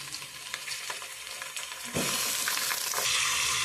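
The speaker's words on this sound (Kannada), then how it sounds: "ಬೆಳ್ಳುಳ್ಳಿ, ಜೀರಿಗೆ ಹಾಗೆ ಈರುಳ್ಳಿ ಫ್ರೈ ಆಗ್ತಾ ಇದೆ ಇವಾಗ." Garlic, cumin, onion and tomato fry in a pan for tomato chutney, a steady close sizzle with stirring scrapes that swells louder as tomato goes in.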